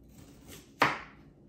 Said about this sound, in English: I'm using 1/2 of a small onion, so I'm just going to slice it